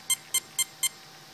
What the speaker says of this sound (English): that's 7 beeps, option number 2